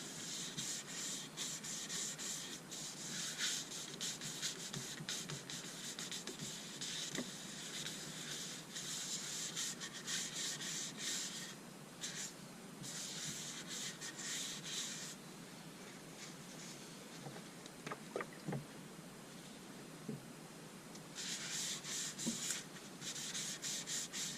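Soft, continuous rubbing of oil into a 300-year-old square oak dish, a steady close-up hiss of cloth on wood with short gaps and occasional faint taps, no voices.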